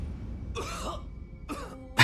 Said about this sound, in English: He's coughing his lungs.